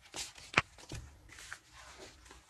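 Tarot cards shuffled by hand for a second draw, a few quiet riffling bursts and soft slaps, the sharpest snap early on, close and faint with no talking.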